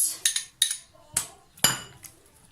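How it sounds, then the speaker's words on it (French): Spoon or utensil clinking and scraping against a bowl while stuffing ingredients are mixed with oil for a vermicelli-stuffed roast chicken, a handful of sharp knocks spaced irregularly, close by. "غادي نخلطو مزيان هاد الشيء اللي عندنا."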